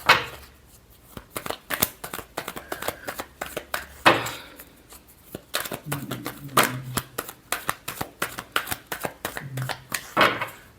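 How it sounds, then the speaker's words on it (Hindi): A deck of tarot cards is shuffled by hand in quick bursts of crisp riffling and flicking, with short pauses between rounds and a voice speaking faintly in places. "Last shuffle."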